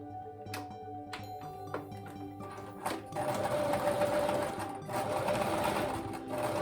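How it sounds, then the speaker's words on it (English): A sewing machine stitches a seam on a tropical fish appliqué, starting with a few sharp clicks and short bursts, then running in a steady, close, buzzing whir with a brief dip partway through. "I'm going to go ahead and run down my seam"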